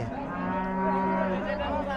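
Native cattle at the Kalampur cattle market moo in long, loud, drawn-out calls that fill the whole moment, close by and with no talk over them.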